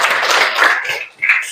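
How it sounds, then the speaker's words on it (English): Brief burst of classroom applause from a group of students, a dense patter of clapping that dips briefly and swells again near the end. "Okay, give applause."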